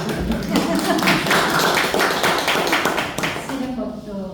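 A group claps in a steady patterned rhythm, a dense run of sharp, loud claps lasting a few seconds, fading out toward the end.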